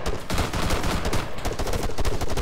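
Gunfire in the video game Arma 3: dense, rapid bursts of shots crackle almost without pause, loud and close, with overlapping reports and no voices.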